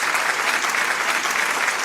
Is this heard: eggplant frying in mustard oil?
no